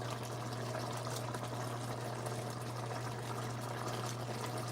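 A pot of Jamaican curry lobster simmers with a continuous soft bubbling and gentle liquid churn over a low steady hum, close by and even throughout, with no talking.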